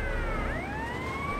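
A fire truck siren in the video game Grand Theft Auto: Vice City Stories wails continuously, its pitch sweeping upward in a steady rising tone over a low engine rumble.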